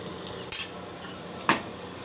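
A metal spoon stirs bay leaves and cinnamon in a pot, striking it in two sharp clinks about a second apart over a quiet background.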